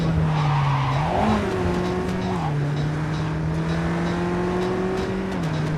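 A stolen car drives in Cyberpunk 2077 with a loud, steady engine hum that rises and falls in pitch as it shifts, while music and other game sounds play underneath.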